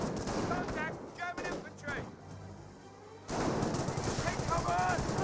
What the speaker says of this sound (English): Sniper does get a shot there on the intersection.